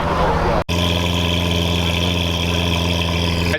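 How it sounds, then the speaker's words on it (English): A rose gold chrome Lamborghini V12 at a Dallas car show runs loud and close with a steady, heavy engine drone. After a momentary dropout the note holds evenly throughout. "He's revving it right now."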